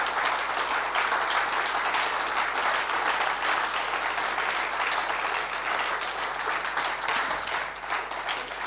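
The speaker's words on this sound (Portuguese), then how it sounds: "Dá um forte aplauso ao Senhor e podes tomar assento." A church congregation applauding, dense sustained clapping from many hands that carries on steadily for several seconds and tapers slightly at the end.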